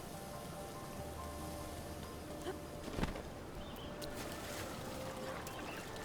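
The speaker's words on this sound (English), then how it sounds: "Oh, I still had a good distance, but it's raining." Rain falls in the video game The Legend of Zelda: Breath of the Wild, a steady, dense hiss of droplets on surfaces throughout, with a soft thump partway through.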